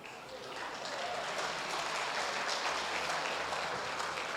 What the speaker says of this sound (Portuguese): Obrigado, mães que estão aplaudindo.